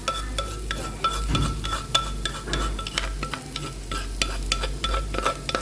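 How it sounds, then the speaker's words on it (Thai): Steady sizzling and scraping as pounded shrimp dry-roasts in a hot pan, with repeated stirring strokes against the metal, fairly close and continuous. "พอกระทะร้อนแล้วนะคะ เอากุ้งที่เราตำเมื่อกี้ใส่เลยค่ะ"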